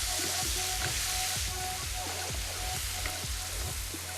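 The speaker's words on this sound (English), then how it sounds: "My butter is browning beautifully." Butter browning in a pan gives off a continuous close sizzle with scattered pops and crackles, steady and moderately loud.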